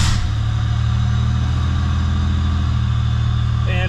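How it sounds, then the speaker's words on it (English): Supercharged Pontiac 6000 wagon engine catching and settling into a steady, loud idle right after a brief start at the beginning, continuing close and unbroken throughout with no talk over it. "I turn the ignition on, see? And we'll start it up."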